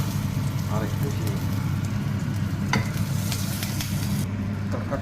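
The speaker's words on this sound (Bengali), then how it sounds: "এবার প্যানে একটা ছাড় লাগিয়ে নেব, সরষা, জিরা, কারি পাত্তা, এখানে আদা কুচানো আর শুকনো লঙ্কা আর একটু হিং" Mustard seeds, cumin and curry leaves tempering in hot oil in a pan, a loud continuous sizzle with crackling pops and spits throughout, heard close up.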